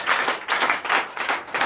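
A church congregation at a Sunday service claps in a steady rhythmic pattern, a dense wash of many hands in even pulses, fairly loud and close, with no speech over it.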